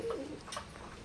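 A pair of Omani bloodline Teddy pigeons gives a short, soft coo, close and alone in a quiet room.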